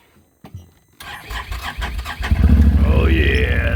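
A 2017 Can-Am Maverick 1000R XMR side-by-side cranks over after a couple of short starter clicks, catches, and revs up into a loud, close engine roar with a rising whine.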